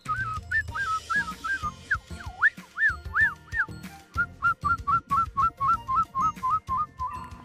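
A person whistling birdsong-like phrases, a voice imitating birds with rapid rising and falling chirps repeated in steady rhythmic bursts, close and fairly loud with no talk.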